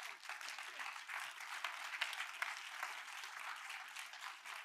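A church congregation claps during a Sunday service, a continuous spread of hand clapping that sounds distant and faint, with no voices above it.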